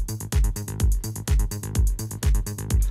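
A bass line running through an Acid Box 3 filter being opened for a progressive house track: punchy, driving synth bass notes in a steady repeating pattern that grows brighter and buzzier, loud with no voices.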